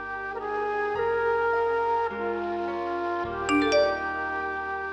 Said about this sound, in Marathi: घरून येत आहेत मेसेजेस.